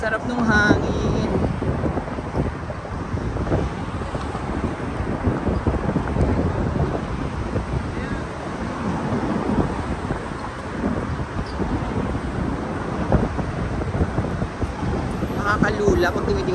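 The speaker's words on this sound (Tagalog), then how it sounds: "Ang sarap ng hangin." Strong wind buffets the microphone on the Brooklyn Bridge, a steady loud rumbling roar that runs throughout, with faint voices now and then.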